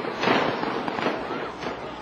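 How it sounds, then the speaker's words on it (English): Fireworks burst at the Golden Temple in Amritsar during a festival, a few loud, close crackling bangs with rolling echoes across roughly two seconds, with no talk over them. "Visitors to the Golden Temple expect to hear the sound of fireworks during festivals."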